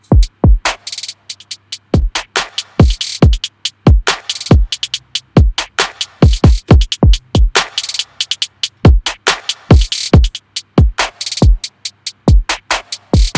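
Two drum loops layered together in a Maschine sampler, punchy kick and snare hits with crisp hats repeating in a tight, steady groove, loud and up front with no voices.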